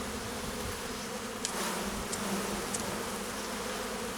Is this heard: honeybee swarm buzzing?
yes